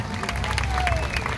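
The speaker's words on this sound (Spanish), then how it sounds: "vamos a darle un aplauso" Brief applause at a tribute event honoring Rafael Hernández and Mirta Silvia, a steady wash of clapping from an audience, moderately loud and continuous with no clear voices on top.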